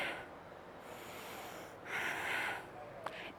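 Steady breathing during a yoga crescent lunge comes as a long soft exhale and a louder airy breath, close and quiet, ending in a small click.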